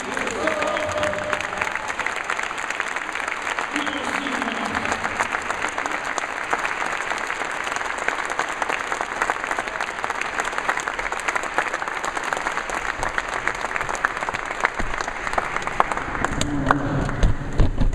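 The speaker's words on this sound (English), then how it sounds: "give a serious round of applause" Sustained applause from a large crowd at a keynote speech, many hands clapping steadily and evenly throughout without a break.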